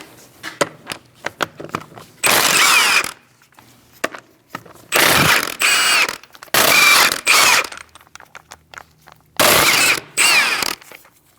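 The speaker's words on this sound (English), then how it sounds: "Using a 17mm socket, we're going to remove our wheel." A ratchet fitted with a 17mm socket works on the wheel of a 2000-2006 Mini Cooper: quick close clicking, broken by several loud, harsh mechanical bursts of a second or so each.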